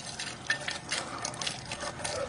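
Water streams steadily from a dog water fountain, a continuous splashing trickle that stays fairly faint and close throughout, with no voices.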